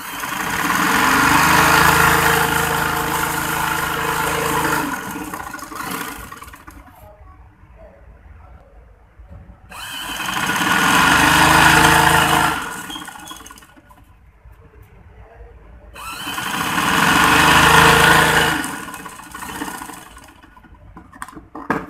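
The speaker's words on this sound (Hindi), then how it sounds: "पहले हमने जोड़ डाले थे, अब हम लहंगे की साइडों की सिलाइयां लगाने लगी हैं" A sewing machine stitching the side seams of a lehenga runs in three loud, close bursts of whirring stitching a few seconds each, separated by quiet pauses, with no one speaking.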